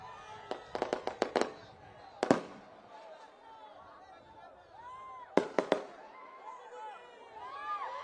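Firecrackers go off at an outdoor political rally: sharp bursts come in rapid clusters, then a lone bang, then another quick cluster, with a voice and crowd noise between them.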